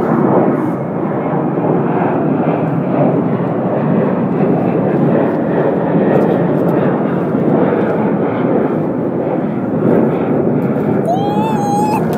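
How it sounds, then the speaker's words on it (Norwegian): A loud, constant roar of an airplane engine fills the whole stretch, steady and close, with a brief high whistle near the end. "Hva var det der flyet?"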